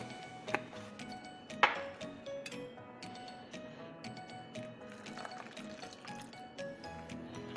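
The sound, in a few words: hot water poured into instant coffee and sugar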